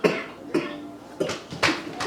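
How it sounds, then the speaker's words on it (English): Several sharp coughs burst out in quick succession from a person eating fried chicken at a table, close and loud, with short pauses between them. "That cough."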